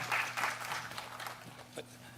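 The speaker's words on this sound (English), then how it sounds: "Please give a warm round of applause for Dr. Thorpe and also Ms. Nicole Hillary, Austin-Hillary," A policy-forum audience claps for the arriving speakers, producing a brief, moderately loud burst of applause that tapers off into scattered claps.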